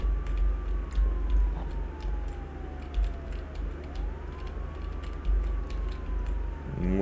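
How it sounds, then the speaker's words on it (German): A police car siren wails in the video game Contraband Police, its tone sweeping slowly down and up over a steady engine drone, with scattered keyboard clicks throughout. "Mit Sirene."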